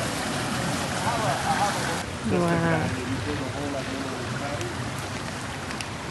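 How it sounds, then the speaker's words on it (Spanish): Water pours steadily from a fountain in a continuous rushing splash that holds at the same level throughout, while a voice briefly exclaims over it. "Miren cómo sale el agua"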